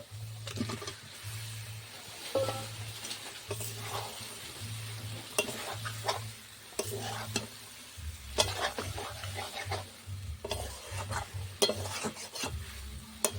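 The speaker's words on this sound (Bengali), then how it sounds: "আলুটা দিয়ে ভালো করে কষিয়ে নেব" Boiled potatoes frying and stirred into spice masala for alur dom, a low sizzle under irregular scraping and clattering spatula strokes against the pan, with a low rhythmic hum in the background.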